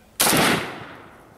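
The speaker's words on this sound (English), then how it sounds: "You guys want to see my ugly mug shooting this nice Wasser 10?" A single loud, sharp gunshot from a WASR-10 rifle fired outdoors, cracking hard and then trailing off in a long fading echo.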